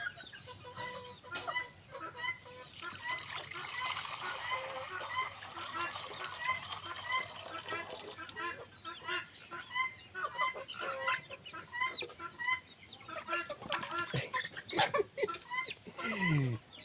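Small chicks on a small village farm, busy overlapping peeping and clucking close by, continuous throughout with bursts of louder calls and some background human voices.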